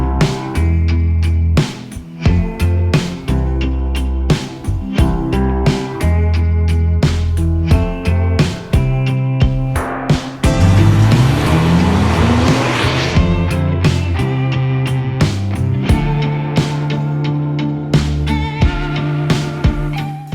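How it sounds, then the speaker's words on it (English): A 300-horsepower front-wheel-drive Vauxhall Astra VXR Nürburgring Edition from the mid-2000s driven hard, its engine revving up and down through rapid gear changes, with a rising sweep midway and tires squealing, loud and close throughout. "We're going to take it out for a drive and find out what it's like to have 300 horsepower"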